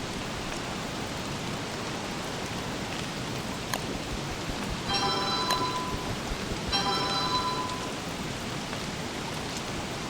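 Steady rain hiss in the Don't Starve Together video game, with a sharp crack and two short bursts of chiming tones over the constant patter.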